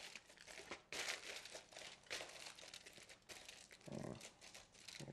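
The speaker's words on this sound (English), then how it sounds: "Form the foil over the bowl, tuck it up underneath." Aluminum foil crinkles and crackles as it is pressed and shaped over a mixing bowl and tucked underneath, a close, dry rustling in several uneven bursts with no talking.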